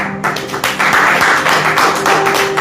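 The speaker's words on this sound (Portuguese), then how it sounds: "Vamos aplaudir o nome do Senhor." A church congregation claps loudly and unevenly, with sharp hand strikes over a faint sustained musical tone.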